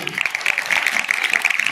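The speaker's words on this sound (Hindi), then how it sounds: "जोरदार तालियां।" Audience applause at a school prize distribution ceremony, with students being called up for salad decoration awards. A steady wash of clapping runs through the short moment, and voices mix in underneath it.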